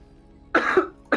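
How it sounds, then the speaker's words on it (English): A person coughs close to the microphone during an esports match commentary, one harsh cough followed by a second starting burst, loud against a quiet background. "Sorry guys about the cough."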